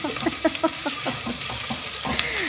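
Vegetables and shrimp in coconut milk get stirred in a pan, a run of quick wet scrapes and soft sloshing strokes with a light sizzle underneath, close up and alone.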